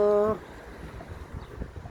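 Steady low wind rumble buffets the microphone after a brief tonal hum at the start, gusting unevenly throughout.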